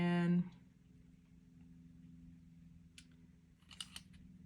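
Scissors trim paper for a Classic Happy Planner page in a few faint, quiet snips in a hushed room, after a short voiced sound at the start.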